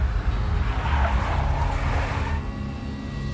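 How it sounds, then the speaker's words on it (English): A big black Mercedes skids with squealing tires in the Max Payne video game, a loud screech over engine noise that fades into a lower rumble after a couple of seconds. "A big black Mercedes."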